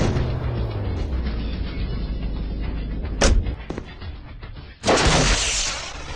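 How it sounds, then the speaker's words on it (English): Loud explosive bursts from a Half-Life sound effect playing in Strange Rope Turtle Hero, a Vice City-style video game: a sharp boom, then a heavier blast, over a constant noisy game bed. "isn't that the Half-Life sound effect?"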